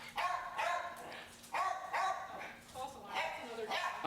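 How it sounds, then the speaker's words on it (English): A dog barks and yips in short bursts about every second, close and fairly loud, amid excited household activity during a dog-training session. "Oh, that was the other dog."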